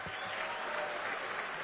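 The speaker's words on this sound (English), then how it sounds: "I love it when the invocation gets applause." Convention audience applauding after an invocation at a California GOP fall convention, a dense, sustained wash of clapping from a large crowd throughout.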